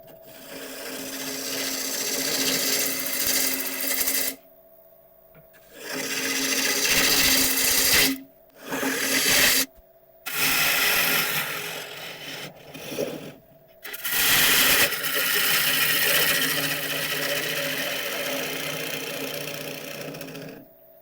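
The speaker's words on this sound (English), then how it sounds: "Now we can start hollowing out the rest." A gouge cuts into a wooden piece spinning on a woodturning lathe, hollowing it out with long, loud scraping passes that break off into short pauses. The motor's steady hum continues underneath, and no one speaks.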